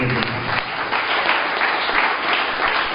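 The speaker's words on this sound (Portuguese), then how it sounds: "E as palmas bem alegres." A church congregation claps together in a lively, dense burst of applause that stays loud and steady throughout, with a voice faintly audible at the start.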